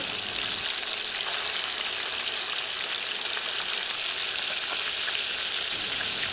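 Fish heads fry in hot oil in a pan, giving a steady, loud, hissing sizzle that stays even throughout with no talking.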